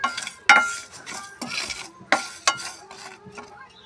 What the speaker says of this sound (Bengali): আচারের মশলার জন্য আমি শুকনো এতে ভালো করে ভেজে নিই, যাতে না পুড়ে যায়। সমানে নাড়তে হবে